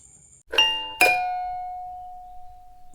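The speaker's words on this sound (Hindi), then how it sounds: "दरवाजे की घंटी बजी" A doorbell rings with two bright chimes a half second apart, the second tone ringing out and slowly decaying in an otherwise quiet room.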